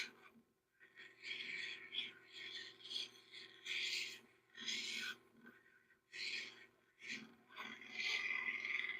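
Freeform cabochon stone polished on a lapidary machine, giving repeated soft rasping, rubbing bursts in uneven strokes over a steady motor hum, close and moderately quiet.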